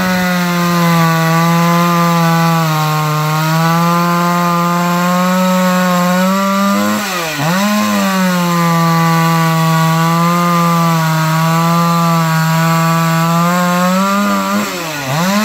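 Stihl 034 chainsaw with the standard muffler and spark screen in, cutting through wood at a steady high-pitched whine that dips briefly twice as the cut load changes, loud and close with no talking.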